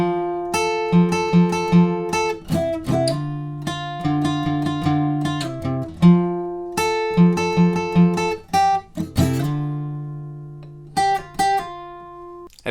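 An electric guitar plays a full riff alone, with clean, bright plucked notes in a repeating pattern and sustained notes that ring out between phrases.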